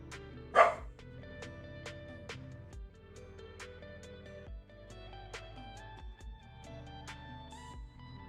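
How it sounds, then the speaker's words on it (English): A single sharp dog bark rings out near the start, close and fairly loud, over steady soft electronic music tones that continue afterward. "you might hear a dog"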